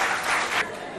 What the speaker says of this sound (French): On applaudit pour les deux candidats